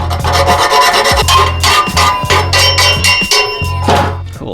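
A metal file rasps back and forth against a car exhaust part from an Audi SQ5, making loud, close strokes in a rough repeating rhythm of several passes.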